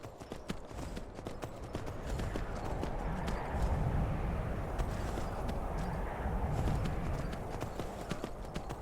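Horse hooves clip-clop steadily on hard ground in Skyrim, a brisk trotting rhythm with faint snorts, fairly close and without speech.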